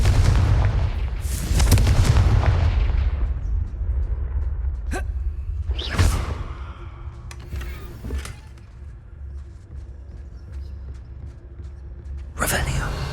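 Confringo blasting curses in a Harry Potter video game go off as several loud, booming explosions spaced across the stretch, each a sharp burst with a rumbling tail, mixed with lighter magical zaps and whooshes.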